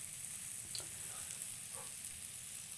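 Sausage and chopped meat fry in a pan for pytt i panna, giving a soft, steady sizzle and hiss with no talking.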